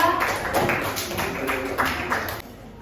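Classroom applause for a student group, a few seconds of scattered, fairly close clapping from a small crowd that ends abruptly.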